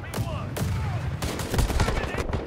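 Rapid close gunfire in the video game World War 3, several sharp shots in quick bursts over a rumbling battlefield bed, with a voice talking alongside.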